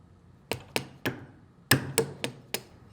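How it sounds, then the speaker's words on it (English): A punch taps a square key into a shaft keyway during repair of a Kimray lever-operated mechanical dump valve: seven sharp metallic taps in an uneven rhythm, close and distinct against a quiet background. "Tap into place with a punch."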